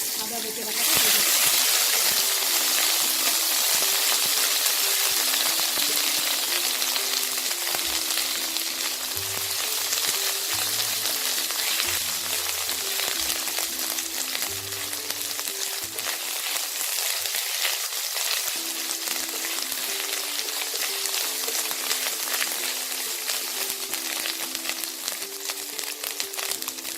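Ginger paste fries in a pan for a Bengali lau sukto, a dense, continuous hiss and crackle close up, with occasional stirring scrapes, while a voice talks faintly now and then.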